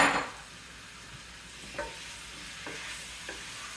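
Cherry tomatoes go into a hot pan for a healthy pasta dish with a short loud sizzling burst, then a steady low frying hiss broken by three soft stirring scrapes, with no voices.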